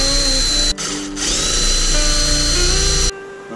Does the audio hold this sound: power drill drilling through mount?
yes